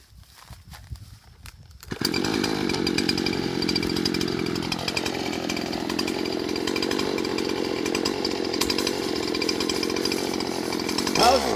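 A chainsaw engine starts up after a quiet opening, then runs loud and close at steady high revs, with a slight dip in pitch partway through and a rise again near the end.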